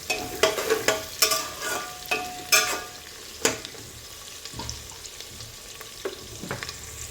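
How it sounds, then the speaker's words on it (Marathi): Onion and peanuts frying in a pan for Khandeshi masala rice, steady sizzle under repeated rhythmic spoon scrapes and taps, close, with no talk. "कांदा परतवत असतानाच आपण यामध्ये शेंगदाणे टाकून घ्यायचे आहे, जेणेकरून शेंगदाणे पण छान तळल्या जातात"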